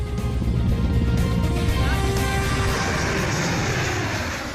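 An aircraft engine roars loudly and steadily as a plane lands on a highway stretch built as an emergency runway in India, a broad rumble filling the whole moment with no voices.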